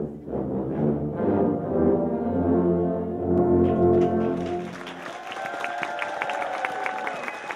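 A massed tuba ensemble plays a low, rich chord passage at a Tuba Christmas holiday concert in a community concert center, then gives way to the audience clapping and cheering.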